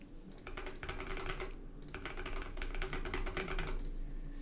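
Rapid clicking keystrokes on a computer keyboard, close and fairly quiet, in quick bursts with short pauses, as a message is typed into a chat app.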